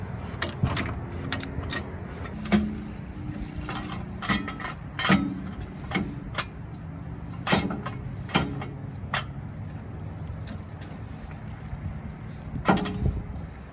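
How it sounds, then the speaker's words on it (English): A jack raising the front of a 2006–2011 Ford Ranger truck during a front brake job, with a steady run of metallic clicks and clanks at irregular intervals over a low background rumble, close by. "right now we're jacking up the front of the truck"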